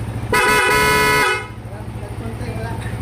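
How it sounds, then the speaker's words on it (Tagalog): A single sustained car horn honk lasting about a second, loud and close, on a car whose horn wiring was just redone, followed by low engine idle and faint background noise. "anong nangyari sa busina, sir? Lumakas."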